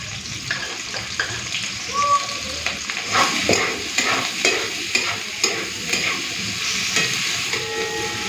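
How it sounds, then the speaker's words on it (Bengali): Chopped onion and garlic fry in hot oil in a pan, sizzling steadily while a spatula stirs with repeated scraping strokes, close and clear without voices. "পেঁয়াজটা রসুনটাকে হালকা ভেজে দিয়েছি"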